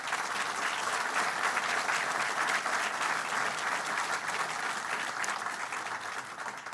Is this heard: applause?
yes